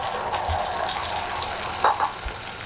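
Boiled chickpeas with their cooking water are poured into a hot pan of browned ingredients, giving a soft splashing gush and a couple of brief sizzling bursts over a low steady background.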